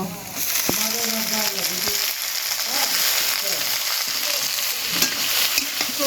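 Cabbage tossed into a pan and stir-fried for restaurant-style chowmein, a steady close sizzle with scraping stirs and occasional clinks throughout.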